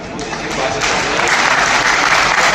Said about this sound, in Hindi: एक बार तालियों की गड़गड़ाहट से